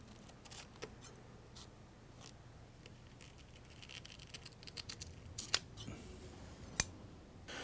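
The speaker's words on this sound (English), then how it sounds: "Sometimes you'll be able to trim off some imperfections in the feather this way" Scissors snip and trim the feather fletching on an atlatl dart, a few faint clicks at first and then two sharper cuts near the end, all quiet and up close against a low background hum.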